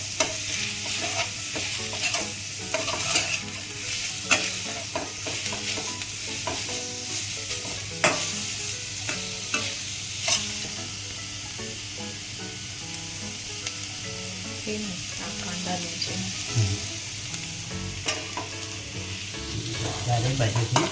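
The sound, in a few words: semolina with carrots stirred and frying in a pan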